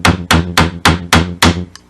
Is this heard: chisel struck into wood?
yes